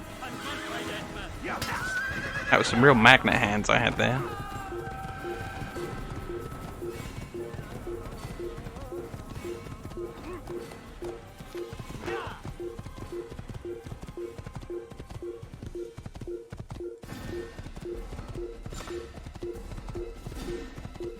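Horse neighing and galloping in Assassin's Creed: a loud whinny early on, followed by steady rhythmic hoofbeats throughout, with someone talking over it.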